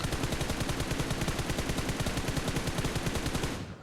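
Rapid automatic gunfire in the mobile game PUBG Mobile, a dense unbroken burst of shots at steady loudness that cuts off near the end, with no talking.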